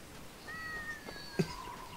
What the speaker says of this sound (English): The crap was that? That would be my cat.